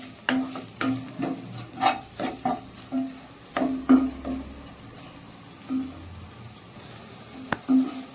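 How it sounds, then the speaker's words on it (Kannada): Okra masala fries in a pan while a spoon stirs it in regular short scrapes and taps over a soft, constant sizzle, close and moderately loud. "ಒಂದು 2 ನಿಮಿಷ ಹೀಗೆ ಫ್ರೈ ಮಾಡ್ಕೊಳ್ಳೋಣ."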